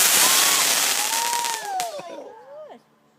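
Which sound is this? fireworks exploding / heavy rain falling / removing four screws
fireworks exploding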